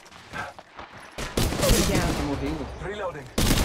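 Dense bursts of rapid gunfire in the video game Apex Legends Mobile crackle and pop, mixed with a voice talking underneath.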